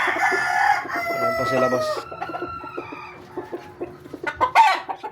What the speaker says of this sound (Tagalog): nagpipikapin ako ng 3 manok. Isang SBR, isang JBK, at isang 5-piece sweater.